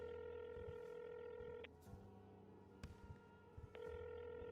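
A phone rings out on an outgoing call to Robin, repeated ringback tones broken by brief pauses and clicks, steady and moderately loud with no talk over it.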